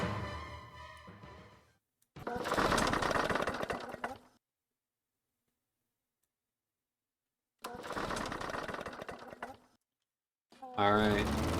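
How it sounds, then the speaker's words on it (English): Lawn mower engine from an Xbox indie zombie game, heard in a few loud, steady bursts separated by silence, with a voice talking over parts of it. "We are off mowing the lawn."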